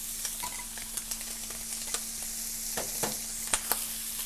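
Beef simmering in a pan with broth and a little slurry added, a faint steady sizzle and bubbling with scattered soft clicks and stirring ticks throughout.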